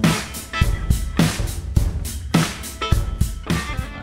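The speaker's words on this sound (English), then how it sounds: "It's this sort of this funky A situation happening over the rhythmic bed of the drums and the bottles." Bluesy rock and roll plays with guitar over a steady drum beat and struck bottles, the rhythm driving with strong regular hits and a full, loud mix without any voices.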